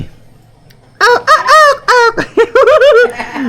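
A chicken in rural Vietnam lets out a loud, close run of harsh, pitched clucks and squawks in quick bursts after a brief quiet moment.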